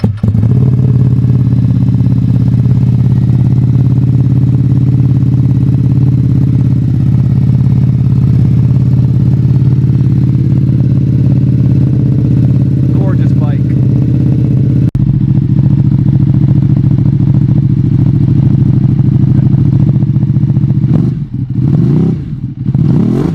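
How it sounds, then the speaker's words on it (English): A Ducati Panigale V2 with a slip-on exhaust on a cold start, a loud, close, steady deep idle rumble holding for over twenty seconds before a couple of quick throttle blips at the end. "let's see how the cold start sounds"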